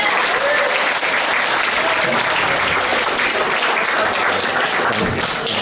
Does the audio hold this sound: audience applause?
yes